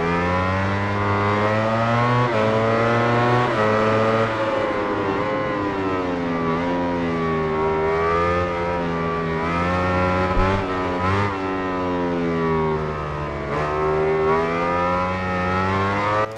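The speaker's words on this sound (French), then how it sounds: "je vais laisser écouter le moteur aussi en première personne" A MotoGP racing motorcycle engine in the MotoGP 19 game, heard from the rider's first-person view, screaming at high revs in long rising sweeps through the gears with brief dips at shifts, loud, steady and close, with no talk over it.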